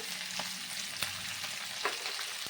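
Green peas and ginger paste are sautéed in a pan while cooking a cauliflower and tangra fish dish, giving a steady, close sizzle with a few soft scrapes of stirring and no talking.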